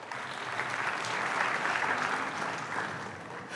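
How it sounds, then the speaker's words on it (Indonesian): Church congregation applauding during a sermon, a steady wash of many hands clapping that stays fairly even throughout, moderately distant and without any talking over it. "Di Bekasi tadi tepuk tangan."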